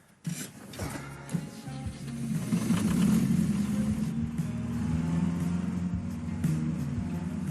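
A small mountain tractor's engine starts with a sharp burst, then settles into a steady, moderately loud running drone as the tractor is driven, the chugging hum holding fairly even.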